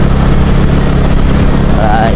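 A Yamaha Mio motorcycle engine runs steadily close by, a continuous low idle-like drone with a faint whine near the end, while a person talks over it.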